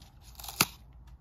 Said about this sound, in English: you'll begin to hear the balloon just pull itself away from the inside